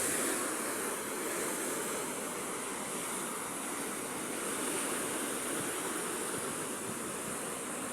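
Strong ocean waves crash steadily against a seawall, a dense continuous roar of surf and spray with no breaks, fairly distant and even in loudness throughout.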